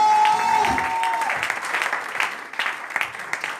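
A church congregation at a French-language service claps for the Lord, dense sustained applause that swells and then thins toward the end, with a sustained tone at the start.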